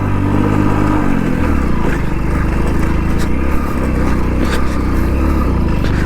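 A Hero Splendor motorcycle riding an off-road track near Dharmapuri, its engine loud and close with a steady mid-pitched drone, slight revving and rattling clatter from the rough ground.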